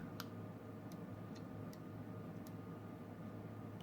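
A DIY 5W warm white GU10 LED lamp kit gives off faint, sparse ticks at irregular intervals over a steady low hum and background hiss.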